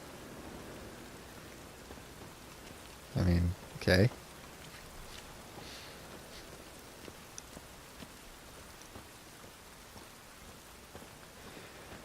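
Steady rain in The Witcher 3: Wild Hunt, a constant close hiss of falling water that runs the whole time, briefly interrupted by a man's short spoken remark.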